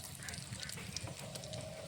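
Bay leaf and dried red chilli sizzling in hot oil in a pan, a steady, soft crackling hiss with small pops throughout.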